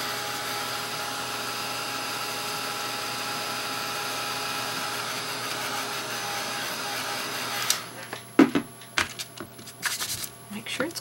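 A steady whirring hair dryer blowing on an acrylic painting on canvas runs for about eight seconds, then shuts off, followed by light clicks and handling sounds.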